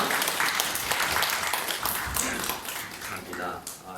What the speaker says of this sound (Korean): 주님께 영광의 박수로 올려드리겠습니다